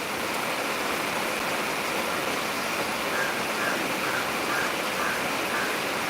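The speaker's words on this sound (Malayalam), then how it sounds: "എന്താ മഴ, സൂപ്പർ മഴ." Heavy rain pours in a dense, unbroken roar that stays loud and constant throughout, with no voices.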